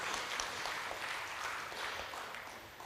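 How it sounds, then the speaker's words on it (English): Applause from a forum audience, a dense steady wash of clapping hands that fills the room, fairly quiet and without voices. "Please give another round of applause,"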